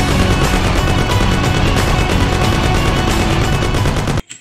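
A Thompson submachine gun fires in the video game Mafia, a loud, close, rapid rattle of sustained automatic bursts that stops abruptly near the end, followed by a few faint clicks.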